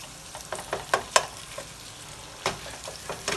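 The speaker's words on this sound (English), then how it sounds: "Next, we're going to take that chorizo, add that in here, get that cooked down." Chorizo cooking in a pan with charro beans ingredients, giving faint frying sizzle and several sharp stirring clacks of a utensil against the pan, scattered in bursts over a quiet background.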